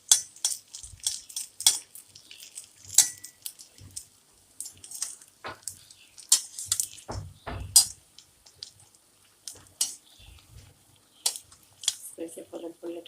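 Cutlets frying in oil in a pan are flipped repeatedly, giving irregular sharp clinks and scrapes of a utensil against the pan amid quiet gaps, with a voice heard at times.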